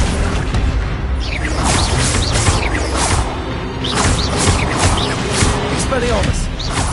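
The Accio summoning spell in the wizarding game Hogwarts Legacy, cast again and again, gives loud whooshing and clattering magical bursts in a dense, continuous stream of effects.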